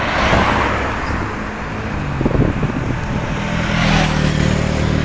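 Near a busy regional main road, a car approaches and sweeps past close by. The engine and tyre noise swell, ease off, then rise again over constant background traffic, with no talk.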